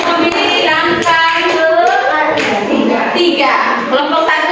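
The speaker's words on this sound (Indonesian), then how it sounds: "kita tepuk tangan untuk kelompok 1" A class of students claps for group 1 during a coding lesson on computational thinking, a dense, steady patter of many hands mixed with excited voices throughout.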